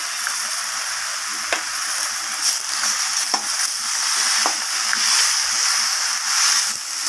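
Fried hilsa fish heads sizzle in a pan with mixed vegetables, a bright continuous hiss with a few sharp spatula scrapes and taps, close and with no talk.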